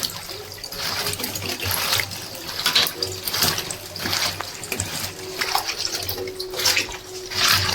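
Water from an outdoor tap splashes and trickles as taro greens are washed, a close, uneven run of splashes and drips rising and falling throughout.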